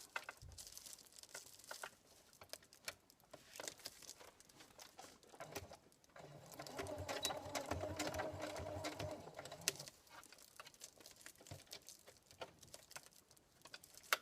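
A sewing machine topstitching fabric for a lunch bag, a faint fast whirring chatter of the needle that runs steadily for a few seconds mid-clip, with quiet handling rustles and stops around it.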